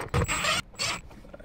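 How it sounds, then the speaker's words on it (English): Screws driven into EVA foam inside a boat: two short whirring bursts from a powered driver, each under half a second, close and fairly loud with a gap between. "I'm gonna screw them in further, so basically it's gonna make a hole through the material"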